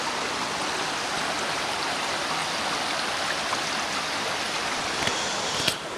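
A waterfall and stream at an upstate New York swimming hole pour as a steady, loud, full rush of water, unbroken throughout, with a couple of faint clicks near the end.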